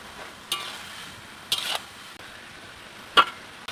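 Vegetables including okra and cabbage being stirred in a pan, with a few short scraping strokes over a soft, steady sizzle and no talking.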